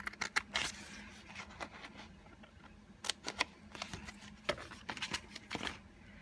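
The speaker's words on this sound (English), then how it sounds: "I'm just going to cut it with a pair of scissors" Quiet, irregular crisp snips and paper rustles, several close together, as scissors cut through thin sticker paper nearby.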